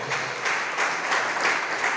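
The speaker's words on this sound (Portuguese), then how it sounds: "Dê um louvor de palmas para Jesus" A church congregation claps in praise during a worship service, a dense continuous wash of applause with a few swells, steady and fairly close, with no talking over it.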